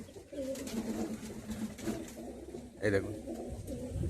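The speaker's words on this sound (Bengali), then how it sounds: "ফুলশিরা জোড়া দেখুন, একদম পিওর আকাশপুকুরি পায়রা" A pair of Fulshira Akashpukuri pigeons coos softly in a loft, low rounded calls repeating under a man's nearby speech.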